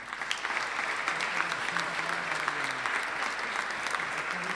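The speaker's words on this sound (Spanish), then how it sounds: "Le brindamos un aplauso también." Sustained applause from an audience at a ceremony recognising distinguished people of Santa Fe, continuous dense clapping at moderate distance throughout, with faint voices beneath.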